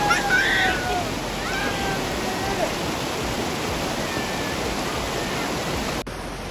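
River water rushing steadily in Mindo, Ecuador, a dense continuous broadband roar close by, with faint bird calls above it and a brief break near the end.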